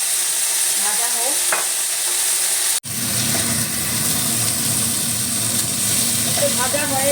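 Soaked soybean chunks fry in a hot pan, a steady loud sizzle that jumps up sharply partway through as the pan is stirred, continuing dense and close to the end without any talk.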